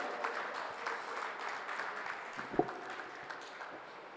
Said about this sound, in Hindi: एक बार लव के सम्मान में जोरदार तालियां बजाइए